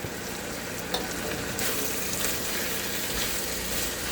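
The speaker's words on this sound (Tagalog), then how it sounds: "So, ilagay natin yung sobra ng marinate natin." Leftover marinade is poured into pork bistek frying with onion in a pan, the steady sizzle swelling a little louder partway through as the liquid hits.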